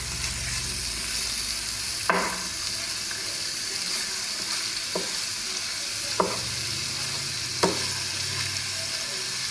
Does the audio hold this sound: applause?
no